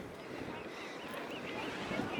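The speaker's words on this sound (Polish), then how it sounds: "Wieje jak diabli." Strong wind roars and buffets the microphone in a steady, rushing blast at Brean Sands, Somerset, with a faint wash of sea surf beneath it.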